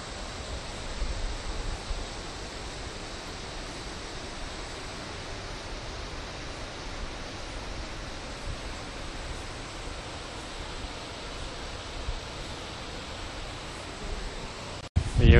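Steady broadband rush of a waterfall, or several cascades, seen from a viewpoint near Cairns, continuous and even throughout with no talk, ending in a brief handling knock.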